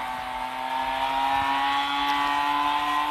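A car engine in the Car Parking Simulator video game holds a steady, sustained drone as it accelerates, loud and continuous with no talking.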